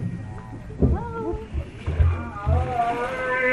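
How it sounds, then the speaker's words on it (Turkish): A humpback whale calls underwater off Alaska. Several drawn-out moaning cries glide up and down in pitch over a low rumble, clear and fairly close. "O kambur balinaların hem de bir tanesi de fotoğrafta, seslerini dinleyeceğiz bu kez. Su üstünde değil, su altındaki seslere kulak vereceğiz."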